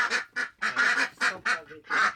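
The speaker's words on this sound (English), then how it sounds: "Ducks are truly part of this adventure and simply belong on our farm" Ducks on a small farm in Sweden quack in a rapid series of about eight loud, nasal calls, close by with short gaps between them.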